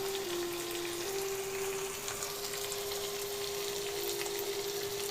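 Beef kala bhuna, black roast with spices, simmering in a pan over low heat, giving a steady soft sizzling hiss with a faint continuous hum throughout, no voices.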